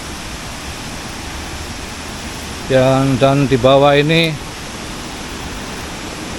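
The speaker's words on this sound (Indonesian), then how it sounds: "ternyata namanya air terjun Goa Putih" The Goa Putih waterfall near a cave in Mojokerto sends up a steady, even rush of water throughout. Someone speaks briefly in the middle over the constant roar.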